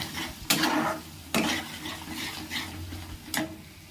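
Mushrooms sautéing with spices in a pan as they release their water, with sharp spatula scrapes and clinks against the pan over a low, soft sizzle.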